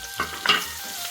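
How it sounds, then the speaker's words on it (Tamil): Chopped onions sauté in a frying pan for a jackfruit kurma, with brief stirring scrapes over a soft sizzle in a short, close burst. "நல்லா வதக்கிக்கலாம், சாட்டே பண்ணிக்கலாம்"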